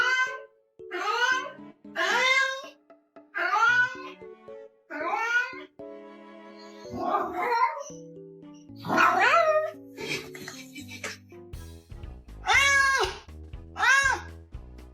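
A chubby cat meows repeatedly in drawn-out, talkative calls, close and fairly loud, with short pauses between the cries and no other voices.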